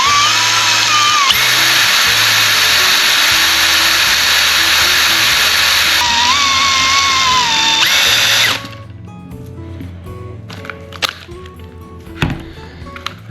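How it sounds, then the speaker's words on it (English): A power drill spinning a fishing reel to strip off its line whines loudly and steadily for about eight seconds, its pitch shifting once, then stops, leaving faint clicks and handling noises. "I'm also going to use the same tape to tape to the chuck of my drill"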